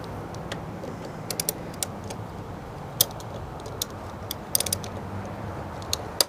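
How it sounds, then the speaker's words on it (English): A hand tool working hex bolts on a 2011 Kawasaki Ninja 250, heard as soft ratcheting clicks and small metallic ticks in scattered bursts over a low steady hum, quiet and with no voices. "So now we need to remove 2 hex bolts. So we're going to start with this one here."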